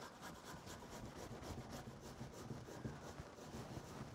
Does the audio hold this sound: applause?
no